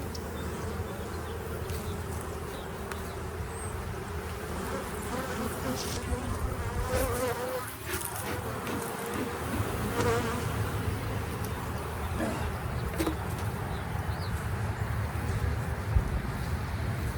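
Honey bees buzz steadily at a hive, a dense close drone that holds without a break, with faint outdoor background noise beneath it.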